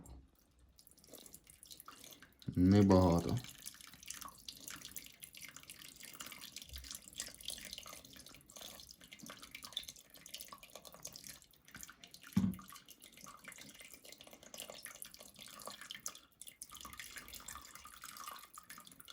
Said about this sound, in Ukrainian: Беремо чайник і отак водички наливаємо